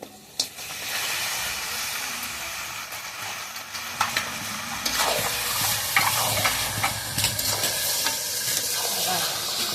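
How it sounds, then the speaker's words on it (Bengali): Cut duck meat going into fried spice paste in a large kadai and being stirred: a steady sizzle that grows into a loud, hissing fry, with scraping stirs and occasional clanks of the utensil against the pan. "এবার কেটে রাখা মাংস দিয়ে দেবো।"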